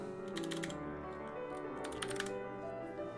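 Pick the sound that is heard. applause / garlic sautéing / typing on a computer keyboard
typing on a computer keyboard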